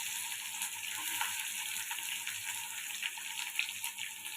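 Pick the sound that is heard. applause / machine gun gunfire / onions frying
onions frying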